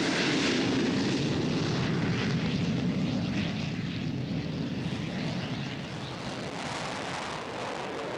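A military aircraft flies past with a steady, broad engine roar that stays loud throughout and eases slightly toward the end, with no voices.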